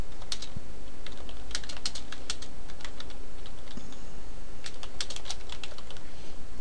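Fingers tap quickly on a computer keyboard in short, irregular bursts of close, crisp key clicks over a faint steady hum.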